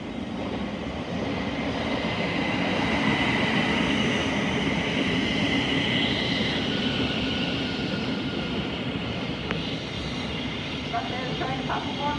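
Train 70102 runs through Stevenage station on the East Coast Main Line with a loud, sustained rumble and rattle of wheels on track, plus brief higher squeals and a tone near the end.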